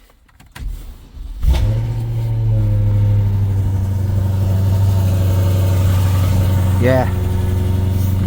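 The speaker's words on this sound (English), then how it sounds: "Cold starts don't get any quieter, guys." A VW Beetle convertible engine cold-starts after a short crank, catching and settling into a loud, steady idle with a blip of revving near the end; a voice speaks briefly at the start.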